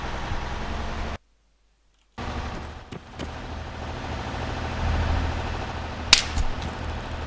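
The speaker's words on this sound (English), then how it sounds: "Oh my god! Shots." Video game gunfire near a house in an action match comes as a few sharp, distant cracks amid constant engine-like rumble and wind noise, with a brief cutout early on and one louder crack near the end.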